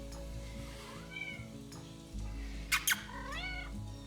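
Hungry cats meow several times, rising and falling cries close by, over a low steady hum with a couple of sharp clicks.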